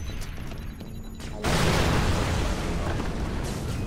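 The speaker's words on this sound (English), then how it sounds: "Okay, grenade." Grenade explosion in the video game Far Cry 3 Blood Dragon, a sudden loud blast after a quieter stretch, followed by a dense rumbling roar that slowly tapers off, close and without talk.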